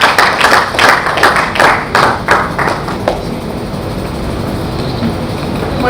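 An audience at an event on intellectual property and the Sustainable Development Goals claps to welcome a speaker to the stage, with a loud, rhythmic burst of claps in the first seconds that thins into low background noise.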